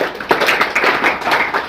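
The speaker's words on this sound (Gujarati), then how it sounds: "પાડો છો એકવાર તાળીઓ બધા" A group of people clapping hands together at a gathering, a short burst of several quick claps, fairly close and loud.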